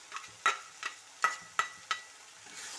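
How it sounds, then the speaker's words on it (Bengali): A spoon scraping and stirring a spice paste of poppy seed and green chili frying in oil for Bengali potol chingri, a few distinct scrapes with a soft sizzle underneath, close and fairly quiet. "দিয়ে আবারও ভালো করে মশলা মিশিয়ে একটু কষে নেব।"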